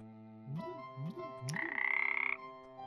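Frog croaks in a video game, three quick rising croaks in an even rhythm followed by a brighter sustained trill, clear and close with nothing else around.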